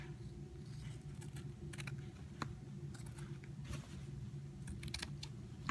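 Scissors cutting a paper pocket template for a fabric T-shirt pocket, with faint, scattered snips and crinkles over a steady low hum.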